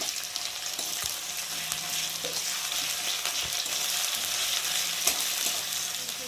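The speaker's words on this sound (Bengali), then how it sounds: "রসুন আর পেঁয়াজটা একটু ভালো করে ভেজে নেব।" Garlic and onion fry in oil as the tempering for a bottle gourd greens dish. A close, even sizzle holds throughout, with occasional soft knocks from stirring and no speech.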